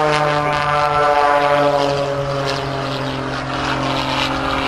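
Aerobatic propeller airplane flying a double hammerhead at an airshow, its engine a loud, steady droning hum with strong harmonic tones held throughout, easing slightly in level near the end.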